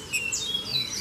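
Trinca-ferro (saltator) songbird singing in short bright phrases, a clear high chirping tune at moderate distance, steady and unaccompanied.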